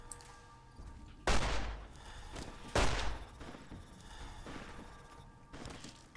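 Two loud gunshots in Fallout New Vegas, spaced about a second and a half apart, each with a booming decay, over quiet background game ambience.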